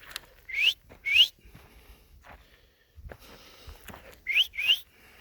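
A person whistles to call dogs on a country morning: two sharp rising whistles, a quiet pause with faint rustling, then two more whistles, loud and close.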